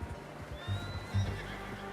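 A horse whinnies in the open-world western game Red Dead Redemption 2, a rising high call followed by low snorts and hoof clops, moderately quiet over soft ambient background.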